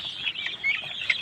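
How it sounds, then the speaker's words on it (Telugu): Chickens on a poultry farm give short, high clucks and squawks in quick irregular bursts over a quiet background. "అంటే కొన్ని జాతి కోళ్ళు, పంజం కోళ్ళు కూడా ఉన్నాయి"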